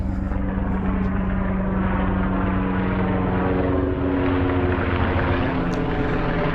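A propeller airplane flies low overhead near an airport, its engine drone loud and sustained for several seconds with a steady hum.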